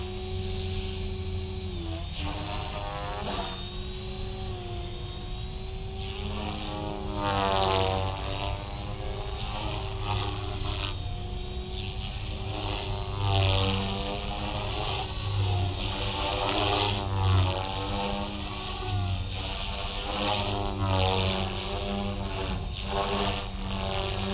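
Align Trex 470LP RC helicopter flying in idle up at low head speed, a continuous whining rotor and motor drone with pitch swells as it maneuvers, steady and moderately near throughout.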